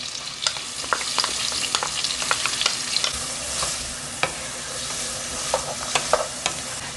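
Diced green bell peppers and celery sauté in a pan, a steady close sizzle broken by frequent scraping and clicking stir strokes, with no talking.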